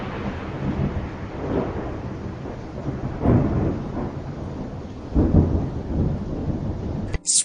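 Deep rolling thunder rumbles in several slow swells over a steady hiss of rain, loud and close, ending with an abrupt cut.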